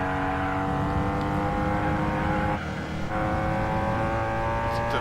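BMW M3 CSL race car in the Gran Turismo 4 video game, its engine droning steadily and loud with dense harmonic tones, a brief dip as it brakes before the note resumes.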